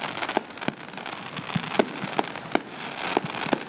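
Fireworks bursting outdoors, a series of sharp cracks and pops spaced irregularly over a steady crackling wash, moderately distant and fairly loud.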